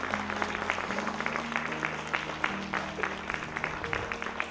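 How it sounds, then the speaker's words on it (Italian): An audience at an evening talk applauds for Daniel, with many hands clapping in a dense, continuous patter that carries on for several seconds, fairly quiet and heard from a distance. "potremo cominciare la serata facendo subito un primo applauso a Daniel"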